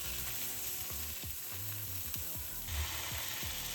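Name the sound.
folded egg frying in a pan for tamago sando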